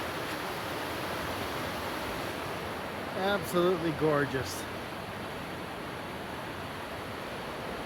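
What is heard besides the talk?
flowing river in Oregon forest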